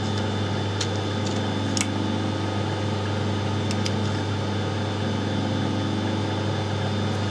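A steady drill motor drone hums continuously while boring through metal on a machined bush, with a few brief scraping ticks over it.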